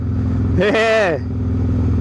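A Dyna motorcycle engine drones steadily and low while being ridden, with a voice talking briefly over it midway through.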